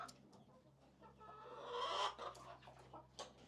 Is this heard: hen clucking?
yes